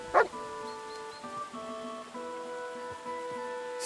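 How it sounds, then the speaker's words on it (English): A dog barks on command in the game Kingdom Come: Deliverance 2, one sharp close bark at the start followed by a steady background music bed with no further barking. "Sit and bark."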